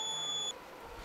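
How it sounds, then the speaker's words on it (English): Buzzer of a humidity sensor pushed into dry soil at a school science exhibition: a steady, high electronic tone for about half a second that then cuts off, leaving quiet room noise. "When we insert the humidity sensor in the dry soil, it will start buzzing."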